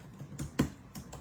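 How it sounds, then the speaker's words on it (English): Soft keystrokes tap on a computer keyboard in an irregular run of about five quiet clicks, close and faint in a quiet room. "And I'm typing this in."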